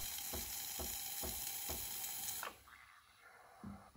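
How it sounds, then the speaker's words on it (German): Steam wand of a KitchenAid Artisan espresso machine purging condensate into a cup: a loud, steady hiss with rhythmic sputtering pulses for a few seconds, then cutting off abruptly to quieter background with a faint trailing gurgle. "Dafür aktivieren wir den Wasserdampf, warten bis die Maschine vorgeheizt ist und dampfen dann kurz in eine Tasse, um das Kondenswasser zu entfernen"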